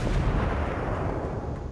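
A grenade blast in the Battlefield 1 Sinai Desert conquest battle, a heavy booming explosion that fills the moment and rumbles out over the following second and a half, loud and close.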